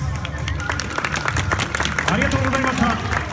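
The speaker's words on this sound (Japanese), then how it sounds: "皆さんどうぞ大きな拍手でお送りください。" A stadium crowd applauds at halftime of a J3 football match after an Air Train performance, steady clapping with crowd babble and some voices.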